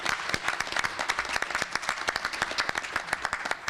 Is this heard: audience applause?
yes